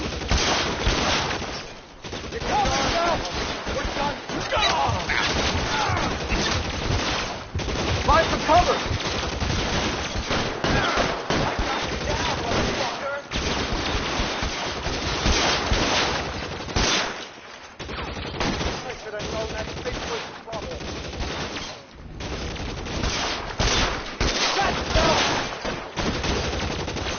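Sustained automatic minigun fire in L.A. Noire, a dense unbroken roar of rapid shots running nearly the whole time with brief gaps, loud and close, with game voices underneath.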